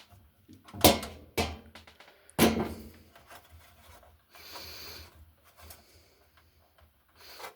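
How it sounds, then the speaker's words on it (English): Metal tools, a screwdriver and pliers, working on a nut at a bench make several sharp clicks and scraping rasps close up, followed by a longer grinding rub and quieter fiddling, with no talk. "we're just going to use our screwdriver and our pliers"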